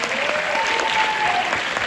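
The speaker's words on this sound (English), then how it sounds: "Give them a round of applause" At a school assembly, an audience applauds two athletes with dense, continuous clapping close up, and a faint tone is audible in the background.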